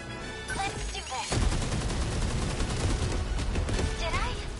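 Dense gunfire from the game 13 Sentinels, a rapid, sustained volley of shots that starts abruptly after a brief quieter stretch and keeps firing close and loud until the end, with a voice talking briefly over it.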